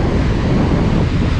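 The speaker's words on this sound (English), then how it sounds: "this is actually the Atlantic Ocean" Atlantic Ocean surf washes in at Cocoa Beach on Florida's east coast, a loud, constant roar of breaking waves mixed with heavy wind buffeting the microphone.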